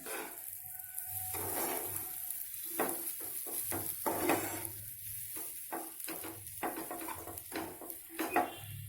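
Semolina being roasted for sheera in a pan, with repeated scraping and stirring strokes of a spoon against the metal over a faint dry sizzle, close and steady throughout with no voices.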